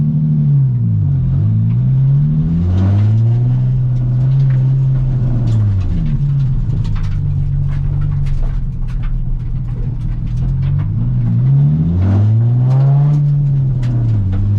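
Drift car lapping the north course at Ebisu Circuit, its engine revving hard and loud in rising and falling sweeps, close and continuous with no talk over it.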